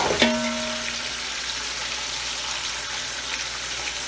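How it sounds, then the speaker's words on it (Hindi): Chicken with garlic and ginger sizzles in a pan, a sharp hiss as it first hits the hot oil settling into a steady, close frying crackle. "थोड़ा सा भूनेंगे इसको"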